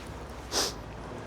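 A man sniffles once, a short nasal sniff heard up close, while out walking with dogs among other dog owners. The quiet outdoor background carries on before and after it.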